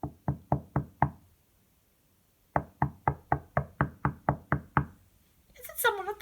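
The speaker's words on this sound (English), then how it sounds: "It was a sort of tapping sound." Tapping at a palace door, told in a Frog Prince story: two quick series of sharp, evenly spaced knocks, five then ten, close and clear, with a brief voice-like sound at the end.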